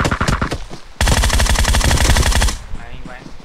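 Automatic gunfire in an online battle royale video game, with one rapid sustained burst of shots after a short opening volley, loud and close, while voices shout in the background.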